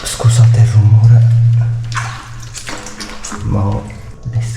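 Shoes splash and slosh through shallow water inside an underground ancient Roman cistern, the wet steps close and loud, with someone talking over them.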